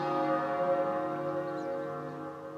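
A town bell in the Layton vs Phoenix Wright video game rings with a sustained, resonant tone that slowly fades.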